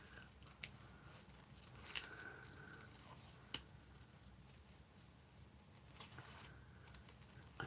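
Scissors snip out paper pieces for a collage, with faint, irregular cuts and a few sharper clicks of the blades, close up in a quiet room.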